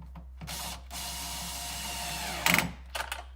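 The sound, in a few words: power drill with clutch driving 10mm nut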